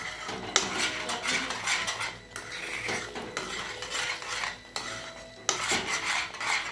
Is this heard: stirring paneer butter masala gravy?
yes